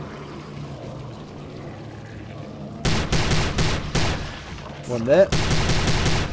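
Gunfire in the first-person shooter Prey, a sudden stretch of rapid, loud shots with a brief warbling alien-weapon sound partway through, following quieter ambience, with a voice speaking briefly.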